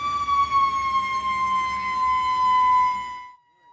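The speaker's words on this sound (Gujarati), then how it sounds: "સાયરન વાગતા જ આખું ગામ પોતાના ટીવી મોબાઈલ બંધ કરી દે છે." Village siren in Karnataka sounding the daily signal to switch off TVs and phones: a loud, steady electronic wail holding one pitch with rich overtones, then cutting off abruptly near the end.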